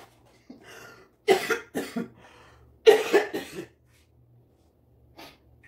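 Several sharp coughs from a person who swallowed wrong while snacking, sounding close and loud in two clustered bursts with a faint one at the end, no talking.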